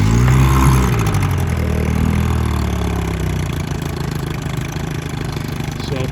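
A Johnson/Evinrude 7.5hp outboard motor with a transfer port cover fuel pump runs loud and close, settling into a steady, slightly uneven idle after starting, with a rough clattering hum throughout.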